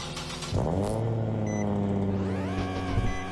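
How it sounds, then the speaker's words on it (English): A beater car's VQ engine revs loud and close, its steady droning harmonics climbing and dipping as the throttle opens and eases off. "It sounds like a VQ."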